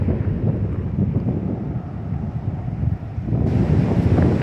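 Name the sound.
strong wind during a storm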